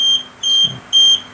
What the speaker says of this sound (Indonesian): alarmnya akan tetap nyala